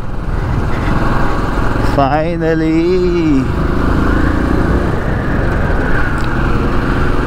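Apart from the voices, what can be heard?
motorcycle ride to Mehrangarh Fort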